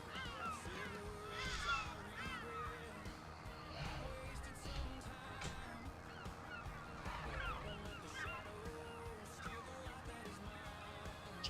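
Canada geese, the so-called cobra chickens, honk repeatedly at close to middle distance in a busy, overlapping chorus on a farm, with some faint background noise.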